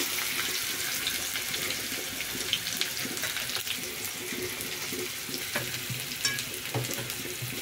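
Cumin and onions sizzle in hot oil with a steady, close frying hiss, broken by occasional stirring clatter and a faint tap-water rush.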